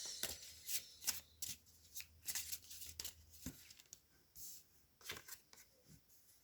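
Tarot cards being shuffled close by, a run of quick riffling and flicking bursts that repeats in uneven clusters, with no talk over it.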